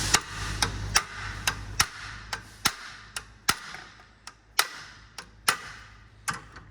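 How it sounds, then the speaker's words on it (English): A hammer taps lightly on a Honda Civic water pump part about a dozen times, sharp distinct clicks at an uneven, unhurried pace, close by with no voices. "with the hammer, you're gonna just hit it just gentle"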